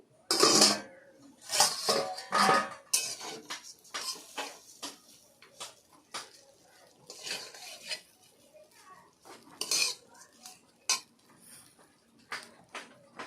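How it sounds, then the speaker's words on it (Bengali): A lid is lifted off a cooking pan of semai vermicelli simmering on low heat, giving a close run of metallic clanks and clinks followed by lighter scrapes and rattles. "তিন মিনিট পর আমি ঢাকাটা খুলে নিচ্ছি"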